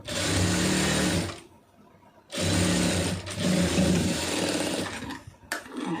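A sewing machine stitching a lining blouse runs in fast, close, steady bursts, stopping for about a second between runs, with a shorter run at the end.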